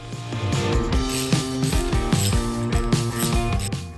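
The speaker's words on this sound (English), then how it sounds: "Then we install the fork tube cap bolt." A ratchet tightens the fork tube cap bolt on a Honda CB750 motorcycle fork, with rapid, loud, regular clicking close by throughout.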